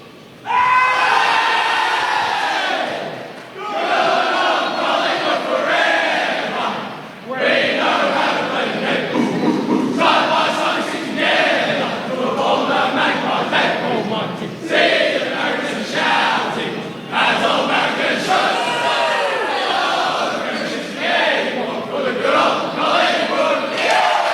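Collingwood players and supporters in a packed stadium sing the club song together after the round 6 game against Essendon, a loud sustained chorus of many voices in rising and falling phrases.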